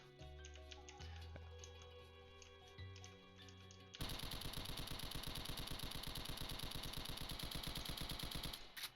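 An assault rifle fires full-auto in the Doom mod Soundless Mound: after a few mechanical clicks and tones, a fast, steady stream of loud, close shots runs for about five seconds and then stops.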